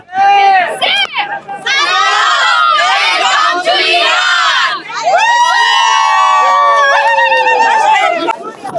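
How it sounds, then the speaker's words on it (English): A huge cycling group in Mashhad shouts and cheers together, a loud, dense crowd of many voices rising in bursts and sustained chanting close by, with a brief lull midway before the shouting swells again. "So you can see it's a huge crowd."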